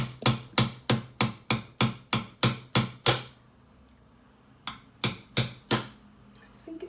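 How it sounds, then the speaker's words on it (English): A run of about ten sharp, evenly spaced hammer taps on a glass bottle, a brief pause, then four more taps, close and crisp. "I'm going to take my hammer here and just smack it lightly"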